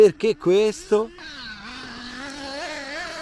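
After a few short bursts of voice, the Ielasi Tuned Dusty R car, driven by someone, runs with a thin, wavering, buzzing engine whine that holds steady at a moderate distance.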